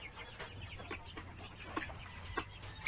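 Plymouth Barred Rock chickens cluck softly in a free-range breeding pen with rice hull bedding, a few short clucks scattered at irregular intervals over a low background murmur.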